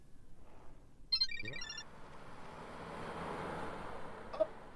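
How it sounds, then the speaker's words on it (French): A telephone rings inside the horror game Chilla's Art The Karaoke, giving one clear ring burst early before a steadier electronic trill carries through, with game ambience humming underneath. "Téléphone. もし Allô."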